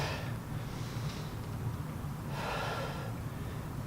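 A person breathes steadily during a strength exercise, with audible inhales and a longer exhale, close and alone over a faint steady background hum.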